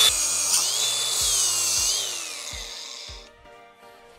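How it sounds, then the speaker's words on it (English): A power tool grinds metal off a steering part on a homebuilt crosskart, a loud, steady whining rasp that holds for about three seconds, then fades out as the tool winds down. "you can grind some of this off"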